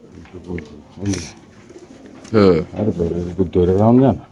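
Saddle pigeons coo in low, throaty bursts close by at a pigeon sale while people talk over them.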